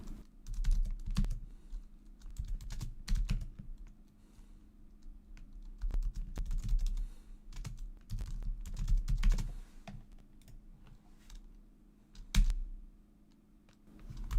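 Steady, fairly quiet clatter of fingers typing on a computer keyboard, with irregular bursts of key clicks over a low background hum.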